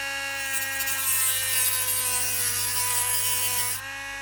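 A rotary tool cuts the pinion off the shaft of an old FK slot car motor, a steady high-pitched grinding whine with a harsh buzzing edge that holds constant and then drops off near the end.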